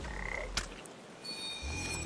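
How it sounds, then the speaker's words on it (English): Frogs croak in the video game PaPo & Yo, a few rough croaks over a steady game ambience with a faint high tone, clear and fairly close. "Go away, frogs."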